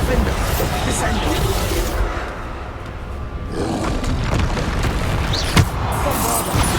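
Bombarda spell explosions from Hogwarts Legacy, heavy booming blasts and thuds repeating through dense game combat noise, with a voice shouting spell names over the action.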